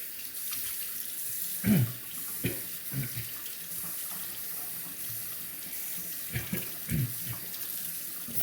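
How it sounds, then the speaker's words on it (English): Water poured onto a honing stone while sharpening a straight razor sets off a few close splashing trickles and gurgles spread across a steady wet background hiss. "Put some water on there, mix up the slurry a bit."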